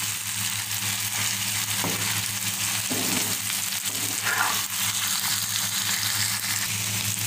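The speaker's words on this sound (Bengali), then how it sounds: "এখন এইভাবে নেড়ে চেড়ে দিতে হবে।" Bitter gourd (karela) fry being stirred in a hot pan: a continuous close sizzle with a few scraping, clattering stirs of the spatula, and no voices.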